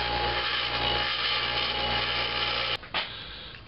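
A carriage bolt about five inches long is sawn down, a steady continuous cutting rasp heard close and alone until it breaks off abruptly near the end.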